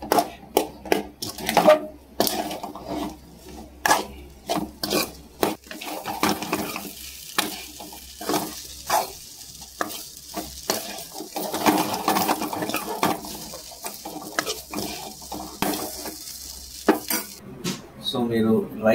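Egg fried rice being stirred and tossed in a pan over a high flame, with repeated scraping and clinking of a utensil against the metal over a soft sizzle, in uneven bursts throughout.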